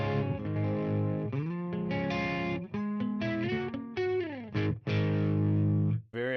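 An electric guitar plays through a Metropoulos Super-Plex amp set for a clean plexi-style tone, with sustained ringing chords and single notes in a loose rhythm, loud and close, ending in a short pause before a final strum.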